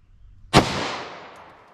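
A single sharp 9mm shot from a 5-inch Smith & Wesson M&P pistol, a loud crack after a quiet start, followed by a long decaying outdoor echo.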